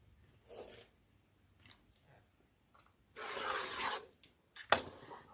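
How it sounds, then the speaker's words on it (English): A rotary cutter or shears trims the selvage off quilting fabric with a couple of short, soft rasping swipes, fairly quiet and close, separated by brief pauses. "I'm going to trim off this selvage."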